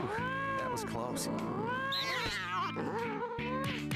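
A plump cat in the No More Heroes 2 video game meows and caterwauls several times in quick succession, close and loud over a steady musical background.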